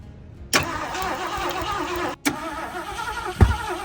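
A 1973 Mercury Montego with a points ignition cranks in two bursts, the starter churning steadily and close by with a brief pause between attempts and a catching thump near the end, without firing into a run.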